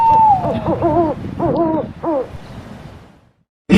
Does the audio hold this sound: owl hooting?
yes